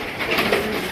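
A large Gopalganj pigeon gives a short, low, soft coo up close, a single brief murmuring call with no voices.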